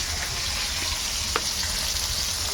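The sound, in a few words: fish frying in a pan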